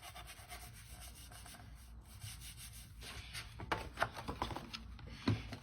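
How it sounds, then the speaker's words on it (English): Scissors cutting along the edge of card paper while making Christmas cards, soft scraping and rubbing with a few sharper snips toward the end, close and quiet. "we're just going to follow that edge right there with our scissors"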